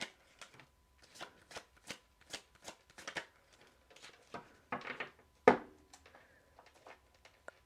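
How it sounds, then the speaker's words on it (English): Oracle cards shuffled by hand during a tarot-style horoscope reading, a steady run of short papery riffles and flicks, close and fairly quiet, ending with one sharper slap as the deck is squared. "Let's pull some oracle cards for you before we close out your reading"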